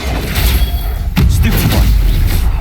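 Spell impacts in Hogwarts Legacy land as loud, continuous booming blasts, with one sharp heavy hit partway through and a dense rumbling wash throughout.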